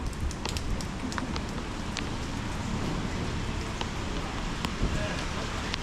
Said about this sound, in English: Yeah, it's gonna be raining a lot today.